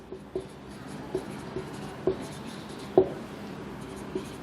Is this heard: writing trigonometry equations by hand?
yes